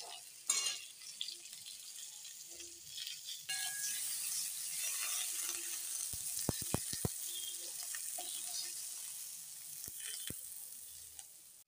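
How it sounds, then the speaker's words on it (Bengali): Eggplant pieces fry in a pan after potatoes, giving a soft, steady hiss of sizzling oil with a few scattered clicks and light knocks, fairly quiet overall. "বেগুনটাও মোটামুটি ভাজা হয়ে গেছে।"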